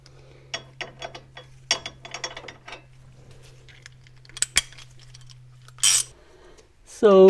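A ratchet wrench tightens a C3 Corvette front suspension bolt to 70 foot-pounds, close up, in bursts of quick clicking separated by pauses, followed by a few metallic clanks.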